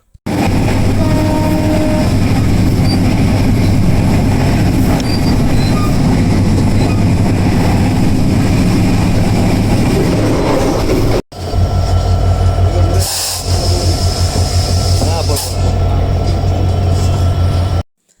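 The Chilahati Express passenger train runs from Dhaka to Bogura near the Jamuna bridge. Its loud, continuous rumble and rattle is heard close from on board, briefly cut off partway through, then it resumes with wheel clatter.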